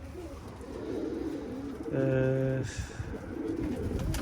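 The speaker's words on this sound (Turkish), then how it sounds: "Bu kuşlar da bir 10-15 dakika açık kalacak." Pigeons coo in a loft during a morning flying session, a dense low murmur running continuously, briefly overlaid by a short spoken hesitation sound.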